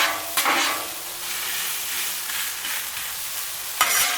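Frozen hashbrowns fry on a Blackstone griddle with a steady close sizzle, two sharper scraping or placing sounds standing out near the start and the end.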